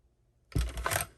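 A die cutting machine presses a paper koala shape, a short loud mechanical crunch and rolling grind lasting about half a second after quiet.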